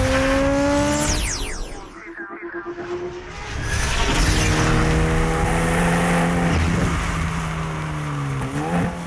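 A Hyundai Veloster N compact sports car roars past, its engine climbing through gears with rising, sweeping pitch, dipping briefly before accelerating hard again in a loud, sustained drive.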